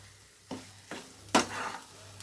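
A spatula stirs mashed cauliflower bhorta in a frying pan: three short scraping strokes, the last the strongest, over a faint, soft sizzle.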